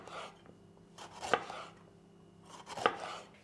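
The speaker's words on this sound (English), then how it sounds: "And then we move on with our pepper. We're gonna cut it thin slices." A knife slices a bell pepper into thin rings on a cutting board, two crisp close chops about a second and a half apart, quiet otherwise.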